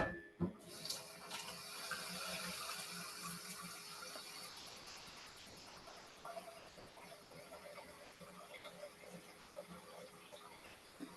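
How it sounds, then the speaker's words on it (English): Water runs from a kitchen tap into a pot being filled halfway, a steady broadband rush lasting throughout with slight shifts in tone as the pot fills, no talking. "Let's fill this up halfway with water."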